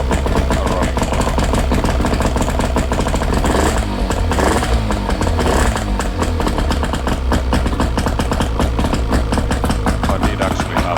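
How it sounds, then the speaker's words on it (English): A Yamaha 55BE outboard motor runs just after its first start in years, a loud, continuous close engine roar with a rough, rattling tone that holds steady the whole time. "And we do have a running motor."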